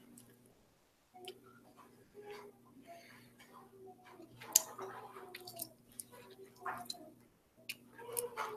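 Close, quiet chewing of food dipped in sauce, with soft wet squishes and smacks over a faint steady hum.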